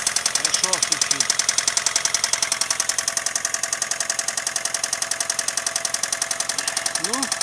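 A running Toyota 7A-FE engine with a steady, rapid metallic ticking knock from a loose valve in the cylinder head, loud and continuous throughout, with brief voices speaking over it at moments.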